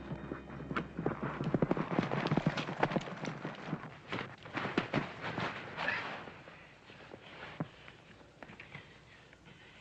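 Horse hooves clip-clopping in a steady, brisk rhythm, fairly close, gradually fading as the animal moves away.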